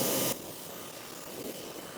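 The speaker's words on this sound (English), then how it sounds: "And now we're gonna go ahead and rinse the wheel off." Water spray hisses steadily onto a car wheel during a pre-wash rinse, loudest in a brief burst at the start and then a softer continuous wash, with no talking.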